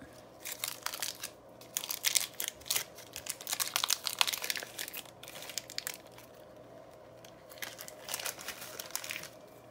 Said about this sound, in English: You're just gonna wanna knead it to get it all smooth